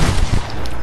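A sniper hunting rifle fired in a shooter game: a single heavy, booming shot with a short rumbling tail, close and loud.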